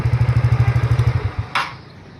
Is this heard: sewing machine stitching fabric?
no